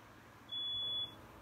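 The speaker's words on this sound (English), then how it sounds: "Smoke detectors go off." A smoke detector set off by cooking sounds one sustained high electronic beep lasting about half a second, loud and alone over a quiet room hum.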